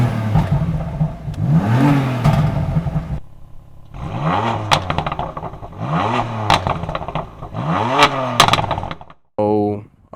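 BMW M4 with a quad-tip exhaust revving in repeated loud pulls, each rise and fall clearly audible, with a short burst at the end.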